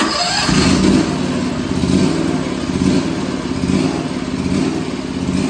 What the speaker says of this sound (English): I'm gonna bring the choke up again to start it.